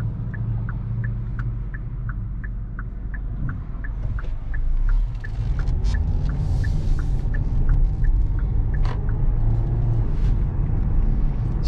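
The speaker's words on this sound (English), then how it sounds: "So I usually give these about half pedal, and that's what I'm doing here." A 2020 Hyundai Kona SEL AWD accelerating at half pedal, with a steady low engine drone and road rumble that swells as it gains speed, with light ticking heard from inside the cabin.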